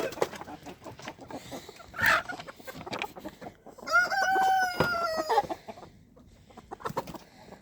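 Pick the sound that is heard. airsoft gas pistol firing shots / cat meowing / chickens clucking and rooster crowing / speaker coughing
chickens clucking and rooster crowing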